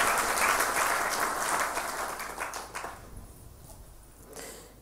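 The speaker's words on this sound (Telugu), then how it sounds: "చప్పట్లు కడితే వస్తుంది బాగా." Church congregation clapping during a Telugu sermon, loud sustained applause that gradually thins and fades out over the last couple of seconds.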